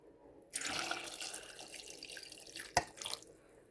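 Water runs from a tap into a pot of tubers, a steady splashing stream that starts abruptly, with a brief clank partway through.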